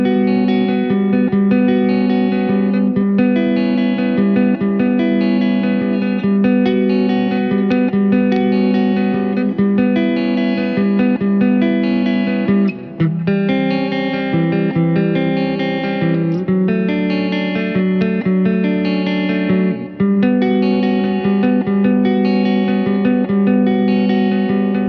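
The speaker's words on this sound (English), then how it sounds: "under high gain, it's surprisingly fluid and handles advanced techniques like sweep picking" Harley Benton ST-20HH electric guitar played through high-gain distortion, a thick, saturated sustained riff with effects and reverb running continuously and loudly for the whole stretch, no voices.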